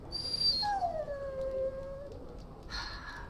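A dog in a video game lets out a drawn-out whimpering howl that rises and then slides down in pitch, followed by a brief breathy yip, close and clear over a quiet background.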